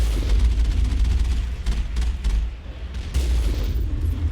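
Gunfire from an active turret in the Mass Effect game, heavy booming shots and rapid bursts layered over a deep rumbling bed, loud and close with brief dips between volleys.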